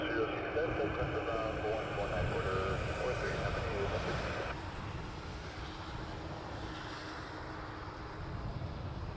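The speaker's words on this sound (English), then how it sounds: "Air Canada A42 Dreamliner." An Air Canada Boeing 787 Dreamliner jet at Toronto Pearson Airport gives a loud, steady engine roar that holds through the whole stretch, with a slight drop partway through.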